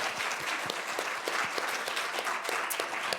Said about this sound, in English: How about a round of applause for Ethan Baker?